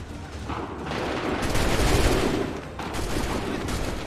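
Crackling musket volley in Assassin's Creed 3, a loud ragged burst of many overlapping shots that swells and rolls on for several seconds, with a sharper second burst near the end.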